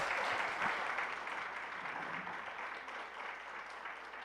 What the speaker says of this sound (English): One more round of applause for Congressman DeFazio.